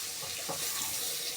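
Water runs steadily from a kitchen tap while vegetable soup with smoked meat is being made, a continuous, even rushing hiss that stays close and unbroken.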